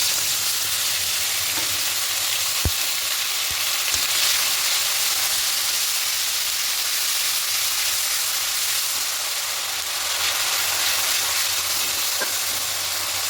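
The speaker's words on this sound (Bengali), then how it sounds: "এবার এখানে টমেটো আর পেঁয়াজ পেস্টটা দিয়ে দেবো" Tomato and onion paste sizzles steadily in a hot pan while cooking rui fish kalia, a loud continuous frying hiss with a few faint clinks of a utensil.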